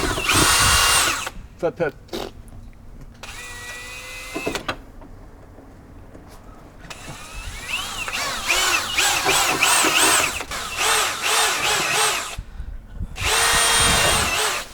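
A power drill bores through metal during restoration of an Eclipse car, cutting in and out in several loud bursts with pauses between, while people talk nearby in the workshop.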